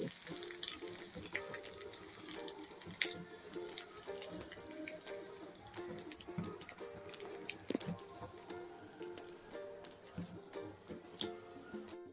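Urad dal, cumin, mustard seeds and dried red chillies sizzle in a couple of teaspoons of hot oil in a kadai, tempering for a tomato, green chilli and coconut chutney: a steady, fairly soft crackle and hiss that runs throughout, with no talk.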